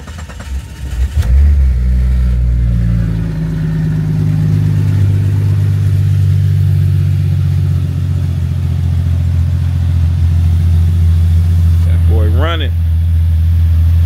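A 1998 Jeep Cherokee engine runs after an engine swap, idling steadily, loud and close, with a steady low rumble that holds throughout and a brief squeak near the end.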